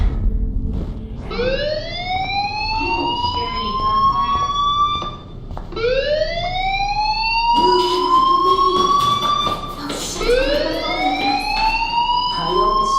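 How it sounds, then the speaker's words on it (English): Fire alarm sounding in the video game Life Is Strange, a loud electronic tone sweeping upward again and again, each rise starting low and climbing, repeating steadily with no talk over it. "Hey, do you hear that fire alarm?"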